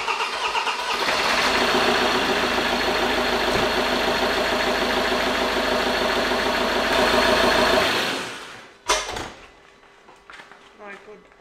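An engine on a test run with heavy blow-by, running loud and steady with a rough, rumbling idle for about eight seconds before cutting out, followed by brief clunks and talk.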